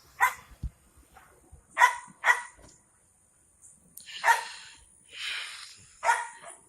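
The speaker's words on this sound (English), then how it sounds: "Dog messing up my video." A dog barks in a garage-type setting beside a 1994 Chevrolet Caprice wagon with an LT1 engine, giving several loud close barks and yips in uneven bursts separated by short quiet gaps.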